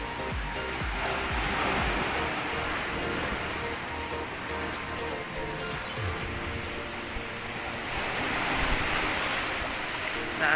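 Sea waves at high tide wash steadily onto White Rock Beach in drizzly weather, a continuous close roar of surf with wind buffeting the microphone, no voices.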